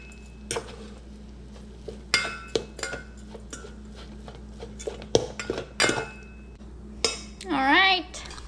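A utensil scrapes and clinks against a pot as fish flakes are mixed into cooked coconut rice, with repeated close metallic taps and scrapes over a low steady hum, ending in a brief whistling tone.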